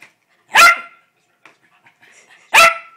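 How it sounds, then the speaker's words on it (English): Two loud, sharp dog barks about two seconds apart, close by, with faint shuffling in the quiet between them. "No barking."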